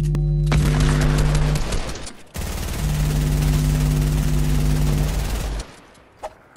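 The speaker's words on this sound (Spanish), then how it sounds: "Le disparo yo, le disparo yo, le disparo yo así" Rapid automatic gunfire in a trio arena shooter video game, dense sustained bursts with a brief pause midway, loud and close, ending in a short single report.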